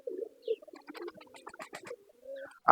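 Domestic pigeons of white, chocolate and black-and-white colours cooing close by in a loft, a few soft low coos and short rolling calls with brief gaps, ending in a sudden thump.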